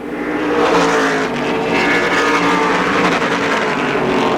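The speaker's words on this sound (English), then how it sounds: "You can hear those crate motors." Stock cars fitted with crate motors race around a speedway oval, engines roaring loud and steady with layered revving as several cars pass close together, continuous for the whole stretch with no voices.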